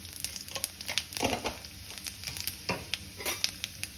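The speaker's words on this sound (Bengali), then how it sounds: "তেলটা গরম হয়ে গেছে, এবার আমি এর মধ্যে দিয়ে দেবো একটা শুকনো লঙ্কা, দুটো তেজপাতা আর বেশ কিছুটা পাঁচফোড়ন।" Dry red chilli, bay leaves and panch phoron crackle and sizzle in hot mustard oil, with dense spitting pops and a steady hiss throughout, close and fairly loud.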